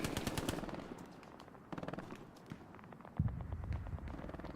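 Machine gun fire in the WWII shooter Hell Let Loose, rapid automatic bursts rattling in several strings with short pauses, fairly close and loud, joined by a heavier thumping burst near the end.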